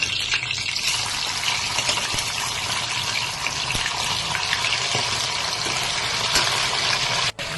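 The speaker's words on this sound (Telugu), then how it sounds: "ఇలా ఆయిల్ పోసుకోవాలి." Oil pours and sizzles over chicken pieces frying on low flame for a chicken pickle, a continuous loud hissing gush with no talk.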